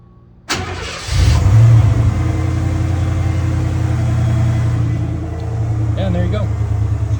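1990 Ford F-150 with dual fuel tanks: a faint hum at first, then the engine cranks and catches, settling into a steady, loud idle close by.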